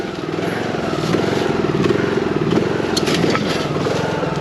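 A HammerHead 250cc go-kart engine idles steadily nearby, a continuous rough rumble with faint clatter throughout, holding a fairly even level with no talk.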